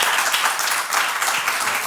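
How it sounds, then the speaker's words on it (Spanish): Audience applause fills a short stretch, a loud, close, continuous patter of many hands clapping at once, steady throughout with no talking over it. "un aplauso para todos los argentinos que nos ven de ahí"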